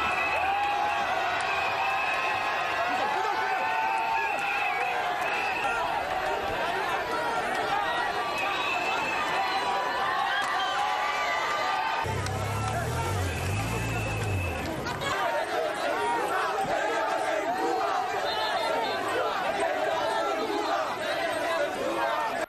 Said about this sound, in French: Une foule enthousiaste qui communie avec le président Macky Sall